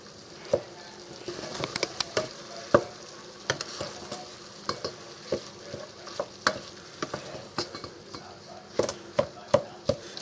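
Ground chuck with a little salt fries in a pan for hamburger stroganoff while being mixed, giving a low sizzle broken by frequent, irregular spoon scrapes and taps close up.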